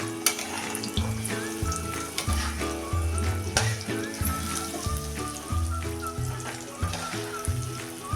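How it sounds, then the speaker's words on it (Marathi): Besan flour stirred in hot oil while cooking Marathi pithla gives a continuous close sizzle and frying hiss with scraping stirs, under layered background music. "सगळं तेल मुरेपर्यंत आपण ह्याला वरचेवर असं हलवून घ्यायचं आहे"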